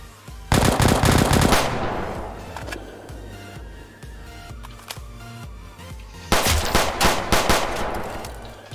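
Automatic gunfire in the Roblox game Victor Valley during a military police crate transport: two loud, rapid bursts of machine-gun fire separated by a quieter stretch with scattered shots.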